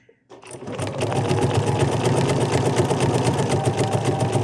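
A BERNINA sewing machine stitching decorative stitches starts up after a brief quiet moment, then runs with a steady, close mechanical whir and rapid needle rhythm throughout.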